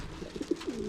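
Pigeon cooing among young racing birds, soft low-pitched coos repeating quickly over about a second, fairly close.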